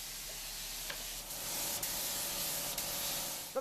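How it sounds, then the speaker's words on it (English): Disinfectant hisses steadily from a sprayer inside a bus compartment, a continuous close, broadband spray with brief clicks and pauses between passes. "spray the disinfectant in a crisscross pattern all over the compartment, the ceiling, floor, and the seats"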